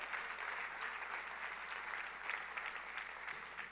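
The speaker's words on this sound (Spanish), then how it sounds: "Aplauda al Señor." A church congregation claps together in a steady, dense patter of many hands, fairly faint and distant throughout the short stretch.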